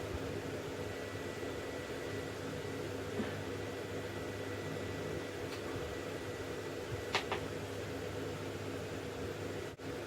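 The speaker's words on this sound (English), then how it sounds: "That's my mum drying her hair." A steady, muffled blowing whir drones throughout, like a hair dryer running behind a closed door, with a few faint clicks and no talking.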